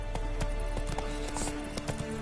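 Roach, a horse in The Witcher 3: Wild Hunt, galloping with a steady run of hoof clip-clops over a busy game backdrop, close and fairly loud, with no talking.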